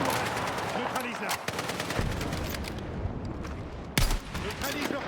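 Heavy enemy .50 calibre machine-gun fire in the video game Battlefield 6, dense bursts and sharp cracks filling a battle soundscape, with voices talking over the shooting.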